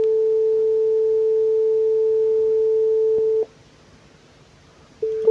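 A pure steady sine tone, generated digitally at a 1500 Hz sampling rate, holds unchanged for about three and a half seconds, cuts to near silence, then briefly returns at the end.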